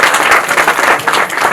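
Applause from the congregation at a Nepali church wedding ceremony, brisk continuous clapping at close range with a crisp, even texture and no talking over it.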